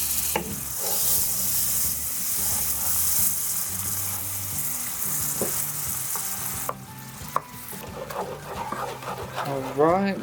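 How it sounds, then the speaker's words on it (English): Butter added to hot caramel on a stove, a strong bubbling sizzle that is loud at first and fades to a softer fizz, with a voice talking over it and a few clinks. "We're going to add our butter."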